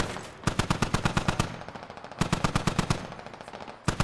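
A DShK heavy machine gun fires in a video game in loud, close bursts of rapid evenly spaced shots, two long strings separated by a short pause and followed by a final brief burst.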